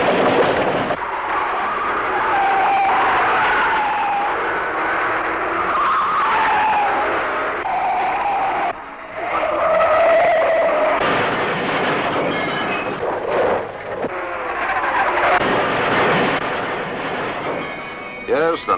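Saloon race cars at the 1965 Armstrong 500 on Mount Panorama, Bathurst, roaring continuously as they race, a loud sustained engine drone with shifting pitch and a brief dip midway, heard alone.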